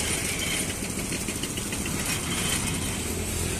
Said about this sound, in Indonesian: Apa nama mesinnya nih? Mesin giling tebu gitu ya?